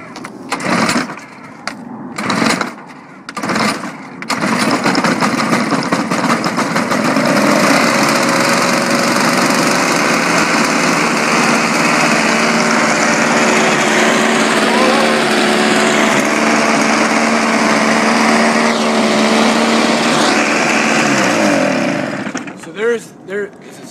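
A Toro S200 snowblower is cold-started with several sharp pull-cord yanks, then its small engine runs at a loud, steady, buzzing drone close by, with voices briefly heard before it cuts off.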